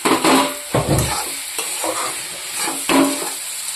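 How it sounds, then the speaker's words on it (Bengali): Beans fry with spices in a pan for a dry fish curry, spoon strokes scraping and clattering in several loud bursts over a steady sizzle. "এটা দিয়ে একটু সময় ভাজা করব।"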